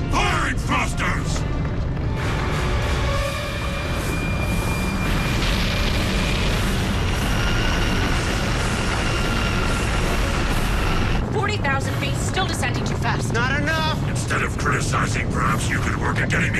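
Alien spacecraft thrusters fire during a crash descent toward the ocean, a dense, continuous roaring rumble with mechanical whine and booms, loud and sustained throughout.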